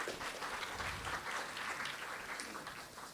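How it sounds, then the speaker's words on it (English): An audience at a design and sustainability conference gives a round of applause, a steady patter of many hands clapping at moderate distance that tapers slightly toward the end. "Can we please have another round of applause for Ms."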